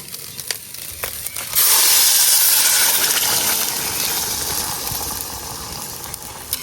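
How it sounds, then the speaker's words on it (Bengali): Water poured into hot fried broken rice in a pan sets off a sudden loud hiss and sizzle that settles into a steady, slowly fading steaming bubble after a few quiet clinks. "এখন আমি পানি দিয়ে দেব"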